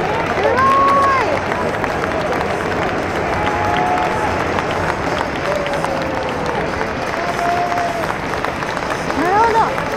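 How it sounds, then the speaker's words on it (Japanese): Football stadium crowd at a J1 League opener, FC Tokyo versus Urawa Reds, fills the air with sustained applause mixed with booing and whistles, a broad loud roar with a few voices chattering nearby. "すごい、拍手とブーイングがすごい。"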